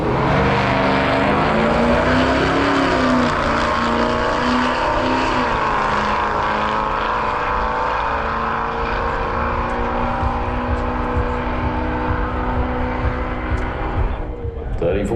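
A drag racing car at Santa Pod Raceway roars loudly with a sustained engine drone that shifts in pitch, fading toward the end as a commentator talks over it.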